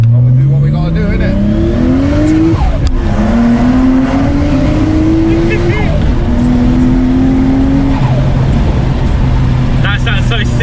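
A big-turbo 450bhp manual Nissan Skyline GTT engine revs hard with the wastegate open. The engine is loud and close, its pitch climbing and dropping across several rev cycles before easing off near the end.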